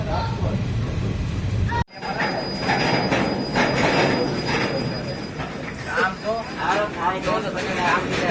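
Okha-Bhavnagar express train slowing at a small station at sunrise, wheels squealing in a series of high screeches over rumbling carriage noise and clattering, after a brief abrupt cut; loud and close throughout.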